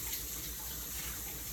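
Steady stream of tap water rinsing half a cabbage in a kitchen sink, a soft continuous splashing hiss with no talk.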